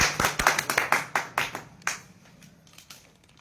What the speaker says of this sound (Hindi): एक बार भरपूर तालियों से उनका स्वागत करें।